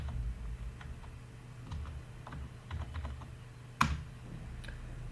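Fingers tap out a function on a computer keyboard in quick, irregular keystrokes, quiet and close, with one louder key strike near the end.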